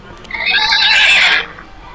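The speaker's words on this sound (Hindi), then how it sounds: "जैसे घोड़े हिनहिनाते हैं ना" A horse gives a single loud, close whinny lasting about a second, rising and then fading out against a faint background.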